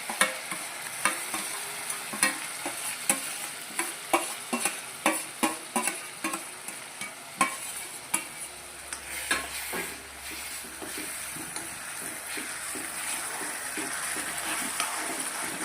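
Tomato paste added to golden-brown fried onions in a pan, sizzling under a run of regular scraping strokes as a spoon stirs, fairly quiet and close, then settling into a steady hiss.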